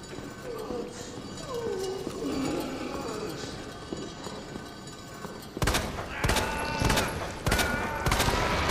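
Gunfire in Resident Evil 2 aimed at a giant eyeball boss: game sounds and a voice first, then a rapid string of sharp, loud shots filling the last three seconds.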